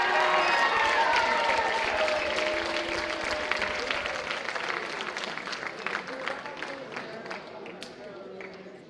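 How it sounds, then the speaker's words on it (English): Sustained audience applause at a high school Decision Day 2022 ceremony, dense clapping with scattered cheers and voices mixed in, steady at first and slowly fading toward the end. "Hey, give them a round of applause."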